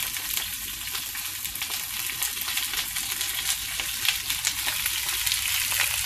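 Pork fat frying hot in a pot to render lard and cracklings, a steady close dense sizzle with crackling pops throughout.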